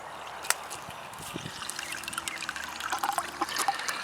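Water trickling and splashing from a solar-powered circulating pump at a spring, a soft continuous flow with small bubbling spurts that grows slightly louder toward the end.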